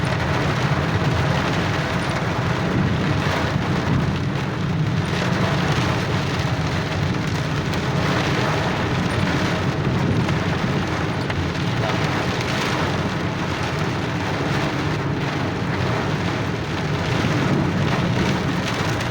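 Heavy rain pours continuously in Mecca with a dense, loud hiss and steady drumming, unbroken throughout with no pauses.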